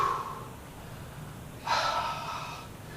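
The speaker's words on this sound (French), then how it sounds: "On fait des grandes respirations." Deep breathing during a stretching exercise in a peewee training session: a soft breath at the start, then a louder, airy exhale lasting about a second.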